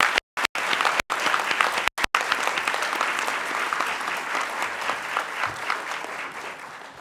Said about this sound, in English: So let's give our honor students one more applause as they come down.